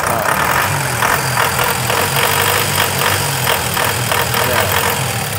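Common rail diesel engine of a Toyota Innova running steadily and loud, a close continuous mechanical drone with a rhythmic knock, no voices.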